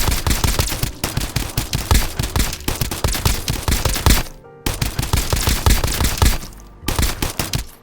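Space glick gun firing in Escape from Duckov, loud rapid automatic bursts of rhythmic shots, broken by a brief pause before the firing resumes.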